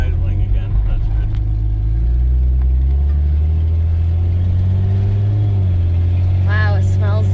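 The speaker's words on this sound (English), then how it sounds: "It's actually idling again." A car engine idles steadily and loud right after an exhaust repair, with a low continuous rumble that holds for the whole stretch and a few faint squeaks near the end.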